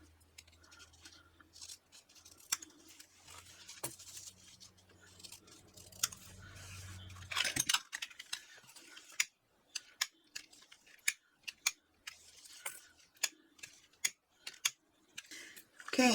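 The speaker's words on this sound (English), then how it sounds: "Okay, so now let me trim off the excess." Scissors trimming excess fabric while sewing a clutch, a quiet series of sharp irregular snips and clicks, close and alone with faint handling sounds between cuts.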